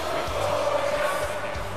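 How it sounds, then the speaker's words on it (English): Wrestling arena crowd in the video game WWE 2K18 as a wrestler heads to the ring, a steady, dense roar of many voices filling the space with a faint sustained tone running through it. "Listen to this crowd."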